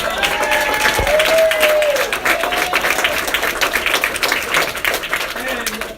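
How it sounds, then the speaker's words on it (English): Audience applause at a political office opening, a steady burst of clapping from a crowd lasting several seconds, with a voice talking over the start. "Let's give a round of applause to Mary."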